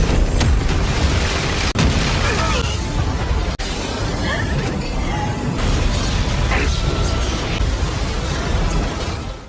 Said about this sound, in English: When the two powers collided, a tremendous explosion of energy occurred